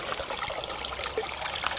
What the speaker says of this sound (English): So this is a stream coming down, and I've widened it a little bit there.